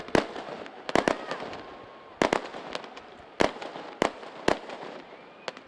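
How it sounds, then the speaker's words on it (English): Fireworks and flares going off over a night crowd at a speedway, a string of sharp, loud bangs at irregular intervals, with crackling and echoes trailing between the blasts. "Boy, we got flares going off everywhere."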